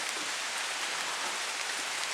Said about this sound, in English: It's sprinkling, but not as bad as it was before.